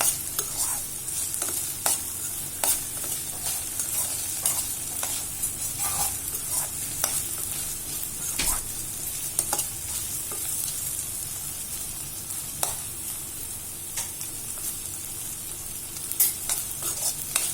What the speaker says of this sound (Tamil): நல்லா வதக்கிட்டே இருக்கணும் நல்லா எண்ணெயில் நல்லா முருகலாக இருக்கணும்